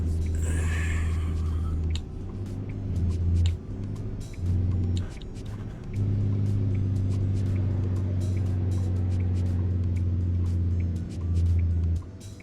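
Video game truck engine driving with a steady, loud low rumble that surges and dips as it shifts and revs, near and continuous, briefly cut a few times.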